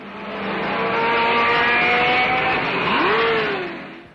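A Porsche 917 race car in the 1970 Can-Am race at Watkins Glen roars past loudly, its engine note sweeping as it goes by, with no talk.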